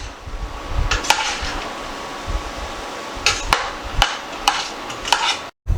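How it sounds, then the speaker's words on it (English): Ground meat browning with onions and garlic in a pan gives a soft low sizzle, punctuated by several sharp clinks and scrapes of a utensil against the pan, with no talking. "now we're going to finish the meat browning with the onions in it and garlic"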